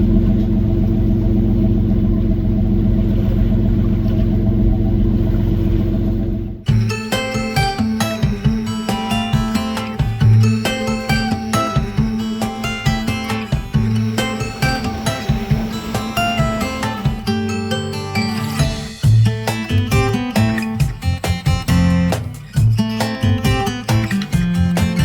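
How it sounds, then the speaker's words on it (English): Diesel engine of a Huzur Yachts 55 powerboat under way at 900 RPM while cruising, a steady low droning hum that is loud and continuous, with a sharp change partway through as brighter clattering and tonal sounds layer over the drone. "The engine's humming along at just 900 RPM at the moment."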